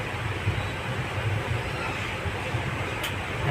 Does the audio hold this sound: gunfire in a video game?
no